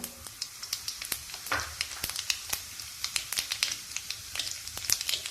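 Mustard seeds and cumin seeds crackling in two spoons of hot oil in a kadai for masala bhindi, sharp irregular pops and snaps over a faint low sizzle, close and alone.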